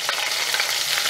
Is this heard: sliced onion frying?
yes